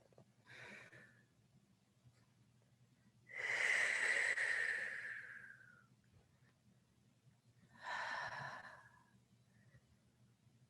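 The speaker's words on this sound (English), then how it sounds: "Big, big breaths out." Deep exhalations during a hatha yoga flow in a twisting pose, three long breaths out, the middle one loudest and longest, heard close against a quiet room hum.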